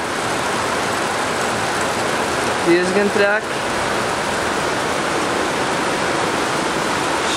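Swollen river in Pokhara after monsoon rain, rushing steadily and loud like a broad wash of noise that has flooded over a bridge, with a brief voice cutting in partway through.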